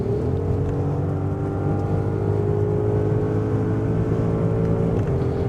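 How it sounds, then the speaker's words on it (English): The deep, rumbling V8 engine of a 2025 Audi SQ8 on the Autobahn roars loudly and steadily, holding a thick low growl with a slight rise in pitch before easing off near the end. "The V8 is known out of the Lamborghini Euros, the Porsche Panamera, the Audi RS6, and it just goes and goes"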